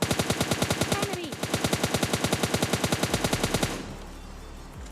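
Rapid automatic gunfire in a mobile battle royale game hammers out a long, even burst of closely spaced shots, loud and near, then stops abruptly before the end.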